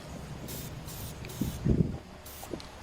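Short bursts of spray paint hiss one after another over a bucket of water, with soft handling bumps between them. The sound is fairly quiet and close, with no speech.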